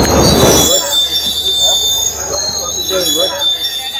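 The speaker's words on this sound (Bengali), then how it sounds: "আমাদের ট্রেন এসে গেল আগরতলা থেকে সাবরুমের উদ্দেশ্যে।" A passenger train on the Agartala to Sabroom line pulls into a station, wheels squealing on the rails with a steady rumble, while people talk nearby on the platform.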